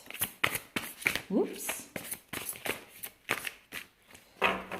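Large tarot cards being shuffled by hand, a run of crisp, close riffling slaps in quick bursts, with a voice speaking briefly between them.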